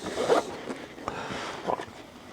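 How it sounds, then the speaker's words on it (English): A zipper on a Master & Dynamic MW75 headphone case is pulled open in several short, close scraping strokes, with quiet pauses between them. "I like the touch on the zipper."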